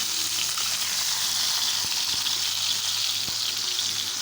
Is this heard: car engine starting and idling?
no